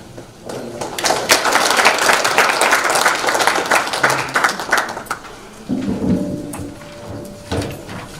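Audience applause fills the room at the close of a lecture at a green energy research institute's anniversary event, a dense burst of clapping that swells then tapers, with a later scrape or thud.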